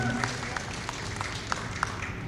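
A small audience claps for band members at The Tent during a 2023 performance, a steady patter of applause with a few sharper claps standing out and a voice talking faintly underneath.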